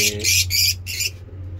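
Several short, harsh pigeon calls squawk in quick succession close by, over a low steady hum, then fade to quieter background.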